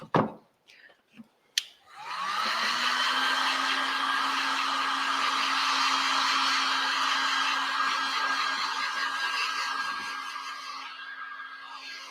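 A heat gun warms the back of a WoodUbend resin moulding, starting after a few clicks and then blowing as a steady, close, whining hiss for about ten seconds.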